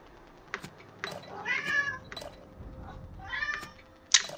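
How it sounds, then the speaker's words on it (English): A pet cat meows twice, drawn-out and fairly close, with soft clicks and room noise around it. "Did you hear my cat?"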